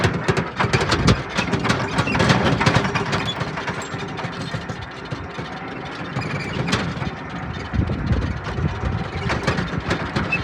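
A tractor's engine rumbles and clatters loudly as it arrives at a farm, with a continuous heavy drone, rattling and occasional metallic squeals throughout.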